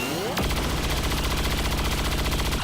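Rapid, dense gunfire from a sharpshooter's shot in the XCOM 2 video game, a sudden loud burst that stays heavy and continuous to the end, with no clear talk over it.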